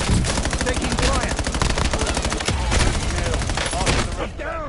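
Dense, rapid automatic gunfire in a Black Ops 7 Warzone firefight, loud and continuous bursts rattling close by, with clipped game voice callouts mixed into the barrage.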